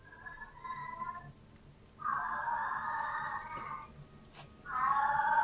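A cat meows in three drawn-out, wailing calls, the last two louder and longer, heard indoors with quiet pauses between them and no talking.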